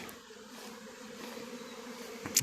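Honeybees buzzing around hives at an apiary in Qazakh district in May, a continuous close droning hum with a faint click near the end.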